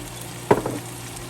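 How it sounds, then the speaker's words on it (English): Oil poured into a hot pan while cooking Cuban palomilla steak gives one brief sizzling splash, then a faint fading crackle over a quiet kitchen background. "I'm gonna put some oil,"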